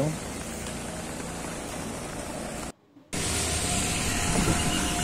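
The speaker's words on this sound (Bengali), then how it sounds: "খুব বৃষ্টি হচ্ছে, যার কারণে আমাদের আজকে শ্যুটটা বাদ দিতে হলো।" Heavy rain pours steadily outdoors in Jessore, a dense, even hiss that fills the whole clip apart from one brief cut to silence near the middle.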